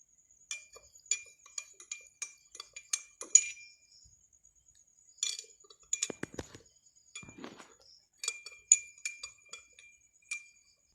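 A spoon clinks against a container while salt and water are stirred, in two bursts of quick light taps with a pause between them. A brief lower splashy swirl sits in the middle.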